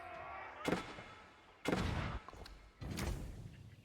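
Three heavy cannon blasts from a video game boom one after another, each a loud burst followed by a rumbling decay.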